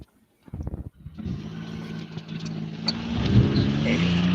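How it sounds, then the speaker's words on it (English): A loud road car at the Mallory Park race track starts up with a few sharp bursts, then settles into a steady, rumbling drone that grows louder near the end, with faint voices underneath. "they didn't ask about how loud my car is."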